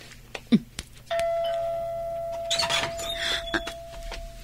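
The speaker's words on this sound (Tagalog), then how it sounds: "Pindutak man dati doorbell." A doorbell chimes once with a clear electronic tone that rings on and fades slowly, followed by some faint shuffling and rustling nearby.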